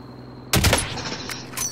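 A sudden close burst of rapid gunfire from Call of Duty Warzone cuts in after a quiet moment, then trails into rattling echoes with a few more shots toward the end.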